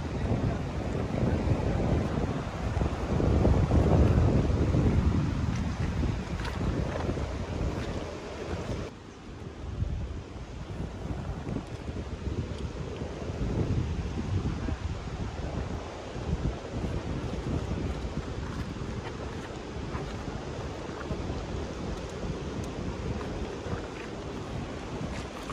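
Strong wind by a river buffets the microphone in heavy gusts, roaring steadily over distant surf, with a loud blast early on before settling into constant rushing.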